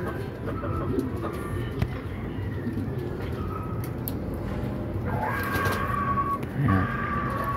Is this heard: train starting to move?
no